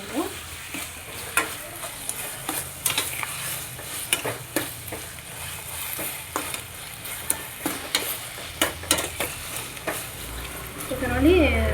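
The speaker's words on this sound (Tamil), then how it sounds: "இந்த ஜீனி நல்லா கலந்து நல்லா கன்சிஸ்டன்சியாக எல்லாம் சேர்ந்து இதே மாதிரி சேர்ந்த மாதிரி இது வரும்" Bread halwa with sugar is stirred in a pan on the stove, giving repeated scraping strokes over a steady soft sizzle. A voice is heard briefly at the end.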